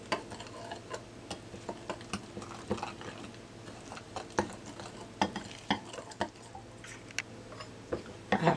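Steady scraping and clicking of a spoon stirring corn meal fritter batter with water in a bowl, with irregular taps against the sides, close and moderately quiet.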